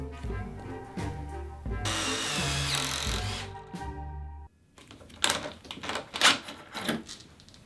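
A power drill with a pocket-hole jig bores into wood for a chair build, a sustained whirring run, then a pause and a burst of knocking and clattering handling noises nearby.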